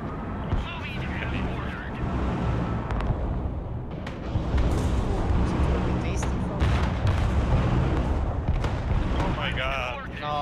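Heavy rumbling booms of artillery fire in the Broken Arrow war game, layered with sustained battlefield noise and vehicle engines. Someone talks over the din.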